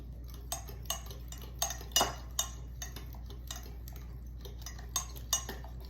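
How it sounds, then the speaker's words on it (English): A spoon stirs banana pudding mixture in a pot with a regular rhythm of light clinks and taps against the metal, close up, over a low steady hum. "stirring everything here"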